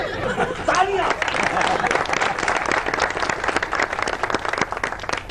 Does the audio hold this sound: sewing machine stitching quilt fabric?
no